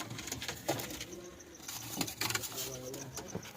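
A pigeon in a home loft coos softly a few times, with low murmuring calls and light rustling close by in a quiet room.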